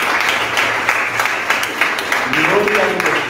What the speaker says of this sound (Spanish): Dar un aplauso bien fuerte al Señor.